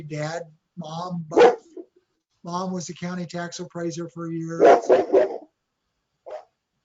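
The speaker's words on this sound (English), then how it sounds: "Excuse the dog." A dog barks a few short, sharp times during a virtual support group call, breaking in over someone talking, fairly close and clear between her phrases.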